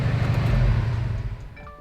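A brand-new Subaru EJ25 engine runs in an STI, a steady low rumbling drone heard up close that holds for more than a second before easing off.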